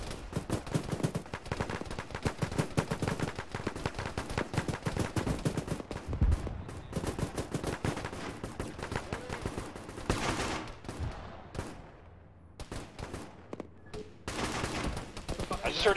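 Heavy automatic fire from a .50 cal machine gun mounted on a Humvee in a ShackTac Arma-style combat game, dense rapid bursts close and loud for most of the stretch, thinning into scattered shots with brief lulls near the end.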